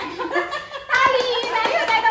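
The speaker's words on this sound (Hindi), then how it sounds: "ताली" Hands clap several times in a quick run, loud and close, with children's voices and a giggle around them.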